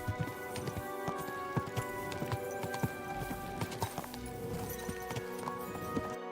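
Steady horse hooves clip-clopping at a walking pace in the video game Kingdom Come: Deliverance II, close by, with a continuous musical backdrop underneath.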